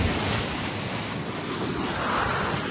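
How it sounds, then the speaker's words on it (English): Waves break and wash over the deck of a racing sailboat out on the open ocean during the Vendée Globe, a steady loud roar of surf and rushing water mixed with wind buffeting the microphone, with no voices. "Some waves breaking over the deck."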